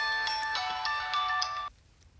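A mobile phone ringtone announces an incoming call with a bright, melodic electronic tune. It plays steadily and clearly for about a second and a half, then cuts off abruptly into near silence.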